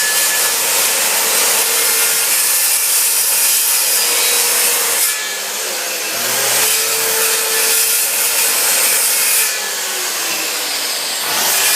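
Cedar trim being cut from a freshly felled tree in the woods, a steady loud power-saw drone running nearly the whole time with two brief dips where the blade eases off, no talking.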